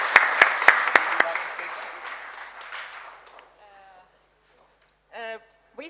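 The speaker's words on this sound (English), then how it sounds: "a big applause for Marchain and the lightweight ferries" Audience clapping at a conference session on a lightweight ferries project, a burst of applause with sharp individual claps that fades out, followed by brief talking.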